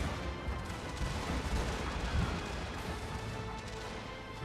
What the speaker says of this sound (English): With the artillery shots coming in as well